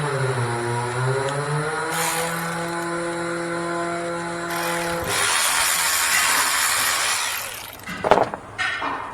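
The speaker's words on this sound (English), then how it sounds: "Now before I put these clamps on, I'm going to run them down some." Hose clamps being run down with a tool on the upper radiator hose of a 2009–2012 Toyota RAV4 2.5 four-cylinder, giving a steady mechanical whir with a rising tone, then a rougher grinding stretch and a couple of sharp clunks near the end.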